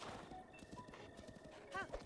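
A horse in The Legend of Zelda: Breath of the Wild clip-clops with quick, uneven hoofbeats, then lets out a short whinny near the end, quiet and with voices faintly underneath.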